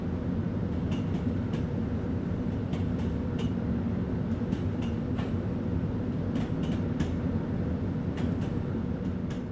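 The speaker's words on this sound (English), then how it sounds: "You're currently riding a Class 3774 electric multiple unit." A Class 377 electric multiple unit runs along the Coastway route toward Brighton in Train Sim World, a steady interior rumble and motor drone with regular rail clicks passing beneath the carriage.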